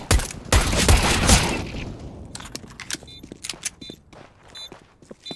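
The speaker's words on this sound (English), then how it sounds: "They're shooting now." A rapid fusillade of gunfire erupts in a tactical shooter video game during a bomb-defusal round. The loud burst fades after about two seconds into scattered clicks and footstep-like taps.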